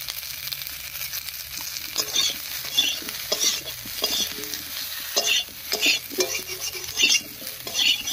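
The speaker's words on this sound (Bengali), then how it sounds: "ফুলকপিগুলো ভাজা হয়ে গেছে, নামিয়ে নিচ্ছি।" Cauliflower frying in a pan with turmeric, with steady sizzling and repeated scraping and clattering strokes as it is stirred.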